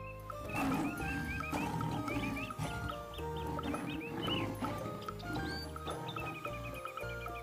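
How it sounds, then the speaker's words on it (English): A tiger roars in a series of rough, drawn-out calls, fairly loud and layered with chirpy tonal sounds, with no speech over them. "T for tiger."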